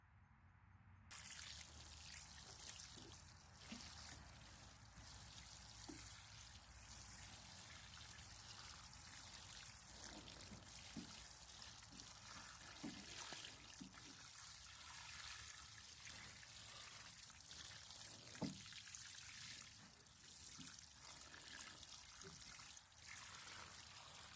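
Water trickles and splashes steadily onto soil as newly planted hardneck organic garlic is watered in a garden bed, a continuous soft pour with occasional drips, fairly faint and with no talking.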